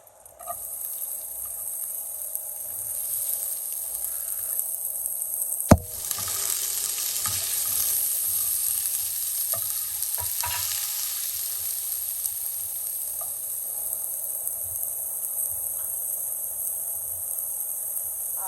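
Vegetables for chicken and vegetable corn soup hit a hot pan with a sharp sizzle, then fry in a steady hiss while being stirred, with occasional scraping and clacks.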